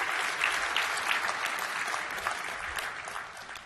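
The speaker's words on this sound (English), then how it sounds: "Now's the time to clap." An audience at a tech conference talk on SharePoint Online applauds, a steady wash of many clapping hands that sounds distant and fairly soft. It holds evenly and eases off slightly toward the end.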